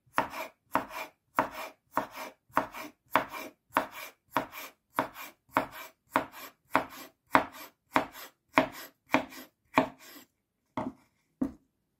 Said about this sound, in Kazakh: Енді қиярымыз турап алайық